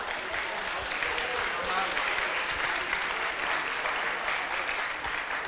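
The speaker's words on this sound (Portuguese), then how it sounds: "Uma salva de palmas, por favor." An audience at a Brazilian legal forum applauds steadily after a Superior Court of Justice minister is introduced, a sustained, fairly distant wash of many hands clapping.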